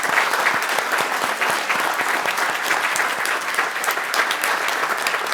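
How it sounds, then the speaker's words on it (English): Sustained, dense applause fills a council chamber as a championship all-star youth team is honored by the mayor and town council. The clapping is steady and fairly close, with sharp individual claps poking out of the wash. "I think that deserves a big round of applause"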